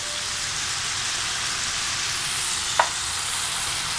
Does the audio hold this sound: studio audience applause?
no